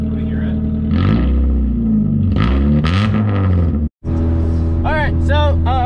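A loud straight-piped Ford engine rumbles steadily nearby as the car drives on roads after a fuel stop, a continuous deep drone with a brief dropout and some voice-like sounds near the end.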